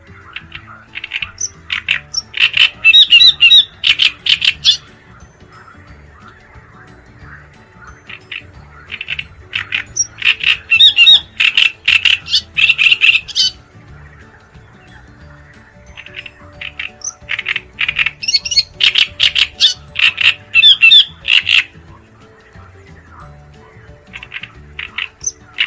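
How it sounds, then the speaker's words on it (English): Great reed warbler singing alone in three loud bursts of harsh, chattering, repetitive song phrases, separated by quieter pauses. "Bird number 2, the great reed warbler."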